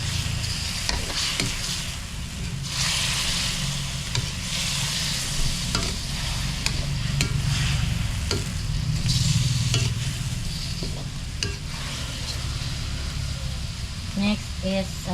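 Soy sauce hits a hot pan and sizzles steadily while a utensil stirs and scrapes with repeated clicks, a voice talking now and then over the cooking.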